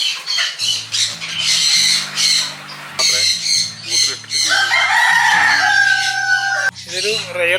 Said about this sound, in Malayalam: ഇതൊരു റെയർ കോഴിയാണ്